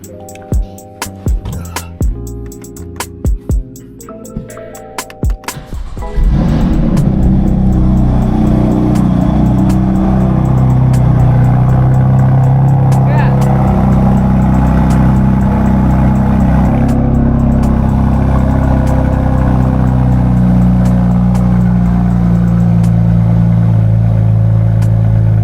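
BMW F82 M4 engine cranking to life in an enclosed garage, then settling into a loud, deep, rumbling idle with a few rising revs that echo off the walls. No voices are heard.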